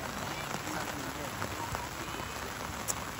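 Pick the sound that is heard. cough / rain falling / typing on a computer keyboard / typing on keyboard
rain falling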